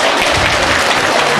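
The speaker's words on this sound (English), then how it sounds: "give them a big round of applause." Loud, dense audience applause in a school auditorium after a Grade 1 and 2 children's song performance, continuous clapping close and filling the whole short stretch.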